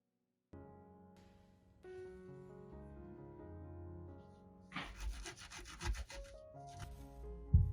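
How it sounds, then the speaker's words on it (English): Salt being rubbed into a stain on clothing with a cut sprouted potato: a short burst of close, brisk scrubbing and rubbing strokes over steady background music. "Sprinkle a spoonful of salt on it and rub it on the stain."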